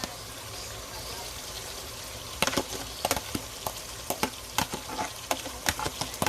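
Ackee and saltfish sizzle in a frying pan, a soft steady hiss joined partway through by sharp scraping stirs and clacks of the utensil against the pan.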